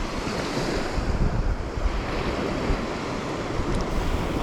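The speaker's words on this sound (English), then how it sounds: "The wind has changed" Steady wind and breaking surf on the shore near Port Willunga in South Australia, with a continuous broadband roar from close-miked gusts buffeting the microphone.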